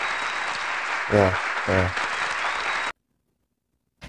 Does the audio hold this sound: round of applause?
yes